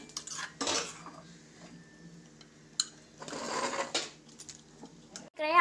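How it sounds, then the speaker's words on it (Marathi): Spoon clinking and scraping against a bowl while chopped coriander, chili, salt and chili powder are mixed together, coming in short bursts with quiet pauses, close and fairly soft. "तर आता मी हे सगळ्यांना मिक्स करून घेणार आहे।"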